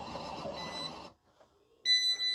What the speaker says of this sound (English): So the machine has beeped.